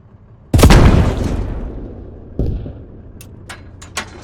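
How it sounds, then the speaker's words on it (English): An OG-15V fragmentation round explodes in the video game Squad with a loud, sudden boom that rolls into a long decaying rumble, followed by a second thump and several sharp crackling fragment pops fading out. "So you can see that is a smaller explosion, but more fragmentation going up, obviously."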